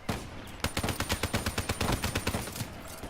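Man of War assault rifle firing in Black Ops 3, a loud rapid burst of roughly a dozen evenly spaced gunshots following a short lead-in, with no talk over it.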